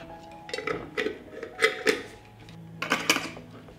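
New lids being screwed onto clean glass canning jars: several crisp metallic clicks and clinks in short clusters, fairly close and quiet, with brief pauses between each jar.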